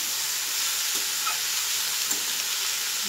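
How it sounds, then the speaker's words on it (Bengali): Cabbage stir-frying in hot oil, a loud dense sizzle that holds steady, with faint scrapes of stirring now and then and no voices. "বাঁধাকপিতে তেলের উপর দিয়ে একটু নাড়াচাড়া করে ঢাকা দিয়ে দেবো"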